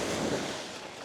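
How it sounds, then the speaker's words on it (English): Dramatic water-wave sound effect of surf washing in a steady broad rush, fairly loud throughout and heard alone. "Water for dramatic effect."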